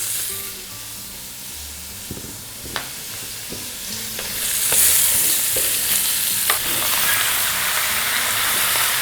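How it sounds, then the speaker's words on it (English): Vegetables tossed into a hot pot where lamb was browned for a braise, a loud continuous sizzle with a hiss of steam and repeated scraping stirs of a spoon. "going to add all these ingredients into the same pot that I browned my lamb"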